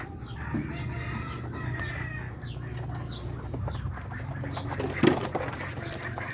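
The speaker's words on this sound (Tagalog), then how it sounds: "Ayan yung mga itik oh." Ducks and other poultry call together in a rural yard, with a rooster crowing and hens clucking over a busy layered chorus of quacks, and a louder burst near the end.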